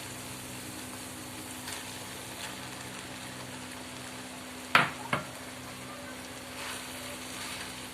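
Small idli pieces being stirred into a spiced mixture in a pan, a faint low sizzle with a couple of sharp spoon knocks against the pan midway.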